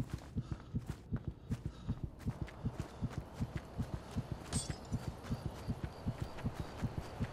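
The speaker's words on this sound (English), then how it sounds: "My character's heartbeat is going crazy." A steady, rapid heartbeat pulses throughout a horror video game set in a cursed forest, its regular low thumps loud and close over a faint ambient background, with no talking.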